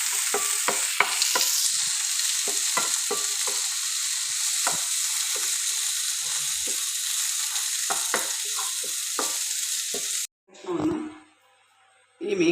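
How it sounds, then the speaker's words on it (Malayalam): Tomato being sautéed in a pan for a pearl spot fish mappas, with a steady sizzle and repeated scraping stirs of a spoon, followed by a brief pause and a short spoken voice near the end. "ഏകദേശം ഒന്ന് വഴറ്റി മാറ്റി വെക്കാം."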